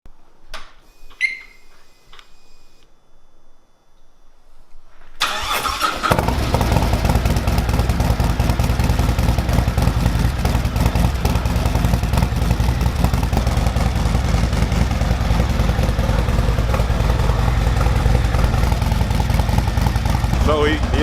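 A Harley-Davidson 107 Milwaukee-Eight motorcycle fitted with a Red Shift 468 cam starts after a quiet stretch, then settles into a loud, close, steady rumbling idle with a choppy low-end pulse.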